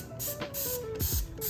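A spray bottle of dish soap is pumped onto LEGO parts in several short, hissing bursts, about four distinct squirts spaced roughly evenly, close and moderately loud.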